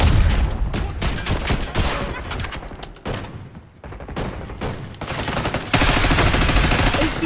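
Call of Duty: Black Ops 6 combat fills the space with continuous rapid gunfire, overlapping automatic bursts and occasional heavier blasts, loud and near throughout.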